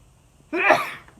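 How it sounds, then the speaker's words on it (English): One sharp, close sneeze bursts out of near silence, brief and loud, then fades quickly. "I'm going to sneeze any second."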